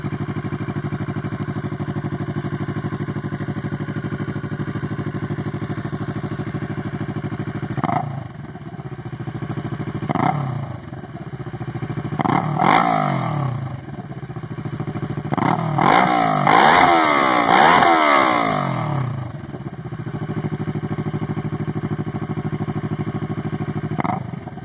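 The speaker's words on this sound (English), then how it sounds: "Get my brother to rev it up" A Kawasaki ER-6n motorcycle fitted with a Jardine GP1 exhaust idles steadily, then is blipped through a series of sharp revs that grow more frequent and rise in a cluster near the middle before it settles back to idle.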